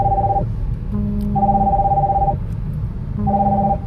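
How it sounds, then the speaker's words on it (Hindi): A telephone rings in repeated electronic bursts, alternating high and low tones with short pauses between them, steady and fairly close. "चलो बीच में ही फोन आ गया"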